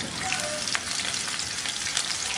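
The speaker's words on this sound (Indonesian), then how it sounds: "Kita siapkan wajan, tambahkan minyak. Kita akan gongsong terlebih dahulu atau kita tumis terlebih dahulu bawang merah dan juga bawang putihnya sampai nanti wangi." Shallots and garlic sauté in hot oil in a wok, giving a steady, close, dense sizzle and crackle that never lets up, with faint stirring scrapes and no voices.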